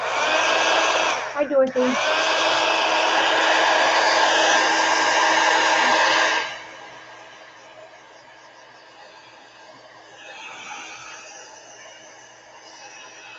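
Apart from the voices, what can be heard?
heat gun drying watercolor paint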